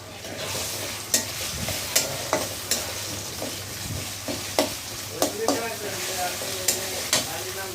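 Garlic and ginger sizzling in a pan while a spoon stirs them, with a steady hiss broken by repeated sharp scrapes and knocks at a roughly even rhythm, close and clear, no talking.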